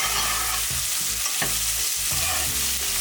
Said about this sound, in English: Now I put in my garlic and onion.